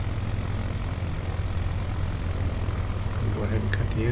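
A small bush plane's engine in Microsoft Flight Simulator 2020 drones at a steady, even level on final approach over Nevada, a continuous mid-loud hum with a few faint clicks near the end.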